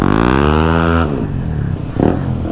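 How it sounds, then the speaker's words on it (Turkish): A Kawasaki Ninja 300 motorcycle engine revs loudly up close, its exhaust crackling and popping as the throttle drops off, with no talking. "Egzoz patır patır patlıyor"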